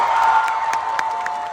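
Children clapping and cheering in a lively group contest, a steady wash of crowd noise with a few sharper claps and shouts standing out, loud and close throughout.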